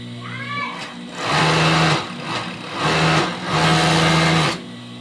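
A sewing machine test run in bursts, with its motor whirring loudly and close in three runs separated by short pauses, while a person talks briefly at the start.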